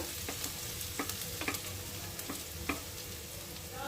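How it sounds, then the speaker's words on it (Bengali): Onions fry in a pan for a Bengali yogurt chicken, softened but not browned, with a steady crackling sizzle broken by several sharp scraping stirs at irregular intervals. "পেঁয়াজটা ভালোভাবে ভাজা হয়ে গেছে, নরম হয়ে গেছে।"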